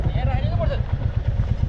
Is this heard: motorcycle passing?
yes